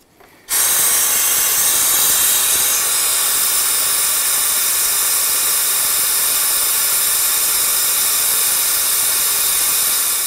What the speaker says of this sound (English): We're going to create vacuum